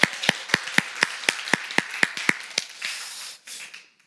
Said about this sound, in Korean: 우리 하나님께 영광의 박수 한번 할까요?